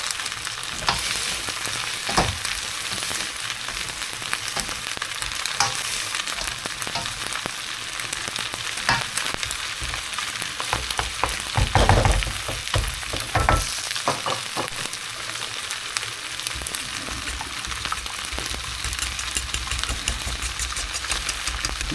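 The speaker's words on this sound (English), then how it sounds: "Whisk up the egg, a little bit like you're doing an omelette, or a bit like scrambled egg" Egg frying in a pan for special fried rice with beef and mushroom, giving a steady close sizzle throughout with scattered scraping and stirring clicks and a brief louder burst midway, no voices.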